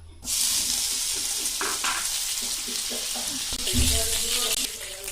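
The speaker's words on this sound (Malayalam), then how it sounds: "ഇതിലേക്ക് നമുക്ക് ബട്ടർ ഇട്ട് കൊടുക്കാം." Butter melting in a hot pan, a steady loud sizzle with crackling that keeps going, along with a few light scrapes and clinks of a utensil against the pan.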